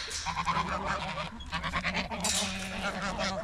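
Geese and ducks honk and quack repeatedly in a busy backyard flock, a dense overlapping chorus of calls close by, with a faint voice underneath.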